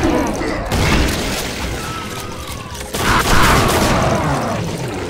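Dense, loud gunfire and booming blasts from the Doom mod Project Brutality, a chaotic wall of shots and impacts with a voice talking over it.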